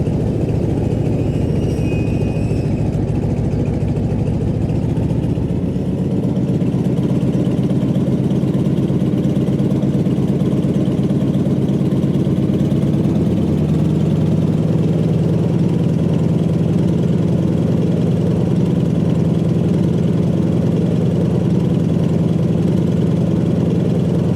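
A Stearman biplane's radial engine idles steadily while taxiing on grass, a loud continuous low drone that shifts pitch slightly a couple of times as the throttle changes.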